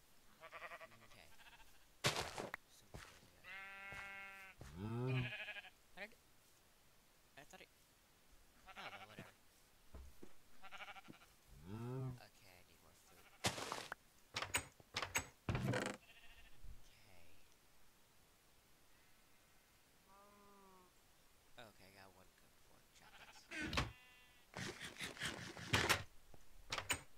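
Blocky farm animals in Minecraft, with sheep bleating in repeated wavering calls at varying distance alongside scattered clicks and door-like knocks, while someone talks quietly at intervals.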